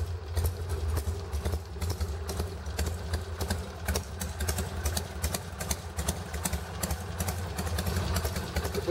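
A Harley-Davidson 883R motorcycle fitted with a mechanical idle reducer idles steadily up close, a loud, even low rumble with a fast lumpy pulse running throughout and no talking.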